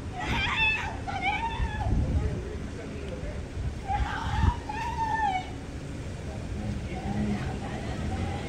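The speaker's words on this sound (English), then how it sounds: "She's screaming a lot in the back." A woman screaming in the back of a police car after an arrest for entering a house through a doggie door, with muffled, wavering cries in repeated bursts inside the vehicle amid background noise and some voices.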